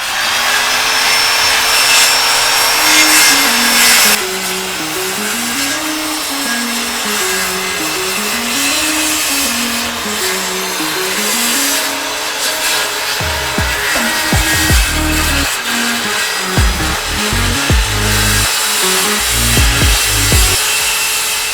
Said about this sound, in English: I'm going to go ahead and cut off about 1 inch of this weathered wood at the bottom of this fence.